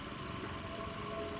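A car engine idling under an open hood at about 105,000 miles, a steady low rumble heard up close with constant loudness and no speech.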